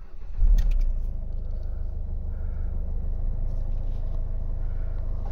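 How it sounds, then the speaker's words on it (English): A Citroen C3 engine turns over with a brief cranking burst and fires, then runs at a steady low idle close by. "Let's start the car up."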